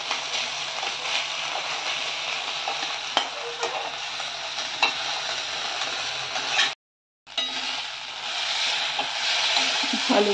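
Tomato, salt and spices frying in a pan for a Bengali duck egg curry, a continuous close hiss of sizzling with stirring scrapes, briefly cut to silence partway, then sizzling again.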